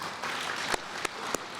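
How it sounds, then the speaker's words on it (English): An audience at a public safety address applauds steadily in a dense round of clapping, with a few sharper claps standing out. "Can we give Mayor Lori Lightfoot a round of applause,"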